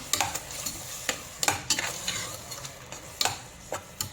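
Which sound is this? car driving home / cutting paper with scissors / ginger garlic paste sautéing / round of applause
ginger garlic paste sautéing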